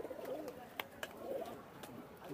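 Pigeons coo softly in low, rolling phrases at a busy pigeon market, with a few sharp clicks or wing taps. People talk quietly in the background.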